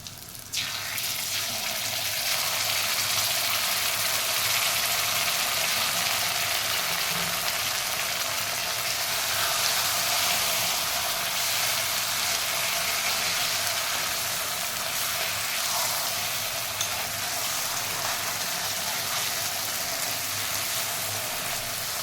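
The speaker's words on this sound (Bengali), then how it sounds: "এইভাবে সর্ষেটাকে হালকা করে ভাজবো, খুব বেশি নেই।" Ground mustard paste fries gently in a pan, giving an even, continuous hiss that stays close and steady for the whole stretch, with no talk over it.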